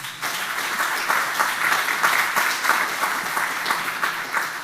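A conference audience at EuroBioC 2025 applauds the presenters after a session of short talks. The clapping is steady, full and close, keeping up a continuous patter of many hands for the whole stretch.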